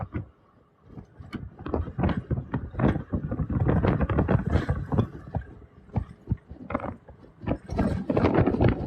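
Strong wind buffets the microphone on a boat in the Florida Keys during lobster trapping, loud irregular rumbling gusts with no talking.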